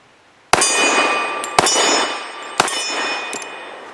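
A Tisas Regent PC45 pistol fires three sharp, loud shots at roughly one-second intervals, each crack followed by a ringing metallic echo that decays between rounds, with faint clinks of brass after.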